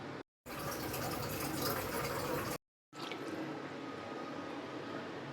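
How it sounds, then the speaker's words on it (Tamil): Water pours into a potato kurma gravy in a steady rushing stream, broken by two brief silent gaps, close and moderately loud with no talking. "இப்போ தேவையான அளவு தண்ணி ஊற்றிக்கலாம்."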